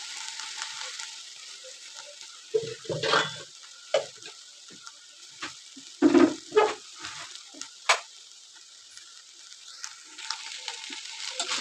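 Amaranth stem greens (thandu keerai) cooking in an open pan, a soft steady sizzle with scattered scraping and clinking stirs, close and fairly quiet, no talk.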